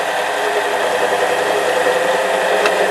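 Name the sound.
lathe parting off with a high speed steel tool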